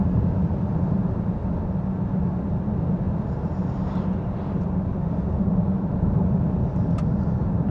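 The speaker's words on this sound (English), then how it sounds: "There's a car turning in now in front of us." A car on a countryside road near Nottinghamshire woodland gives a steady low rumble of road and engine noise, heard from inside a moving vehicle, continuous and fairly loud with no talking.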